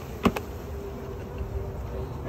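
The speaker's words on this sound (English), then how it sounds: "And now we can just dump the bees out of there." Honey bees from a package being dumped into a hive give a low, steady buzzing, with a couple of sharp knocks near the start and faint bumps later, no talking.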